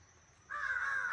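A wild crow gives a single drawn-out, harsh caw that starts partway through after faint background quiet, fairly close and clear with no voices.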